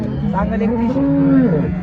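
A cow lets out a long, drawn-out moo, close by, at the Loni cattle market in Maharashtra, with a busy crowd murmuring in the background.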